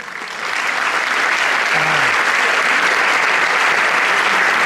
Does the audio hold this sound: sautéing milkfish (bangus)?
no